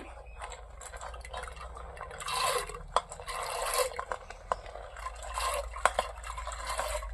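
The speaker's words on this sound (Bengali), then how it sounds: "দেখুন ডালটি আমি ধুয়ে রাখছি" Gram lentils washed by hand in a bowl of water, sloshing and swirling in uneven surges with a few small knocks against the vessel, close and moderately quiet.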